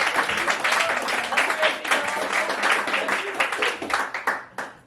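A theatre crowd at a poetry night applauds a featured poet with dense, steady clapping that fills the room and tapers off near the end.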